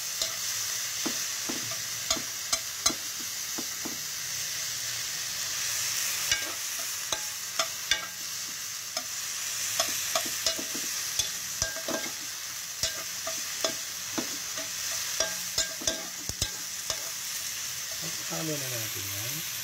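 Garlic and onion fry in a little oil for ginataang papaya, a steady soft sizzle broken by frequent sharp clicks of a utensil against the pan as it is stirred.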